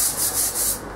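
A hoof brush scrubs the walls of a horse's stable box in quick rhythmic strokes, a loud, close, raspy rubbing in about four pulses with no talking.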